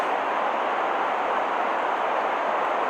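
A rocket ship launches in a video game, a loud, steady, continuous engine roar that holds evenly throughout, with no talking over it.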